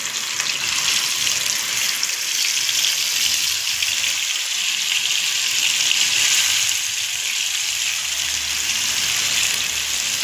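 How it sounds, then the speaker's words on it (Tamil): Marinated fish fries in hot oil on a griddle, giving a steady, close hiss and crackle of sizzling that holds evenly throughout. "நம்ம ஊற போட்டிருக்கிற மீன் எடுத்துட்டு எண்ணெயில் போட்டணும்"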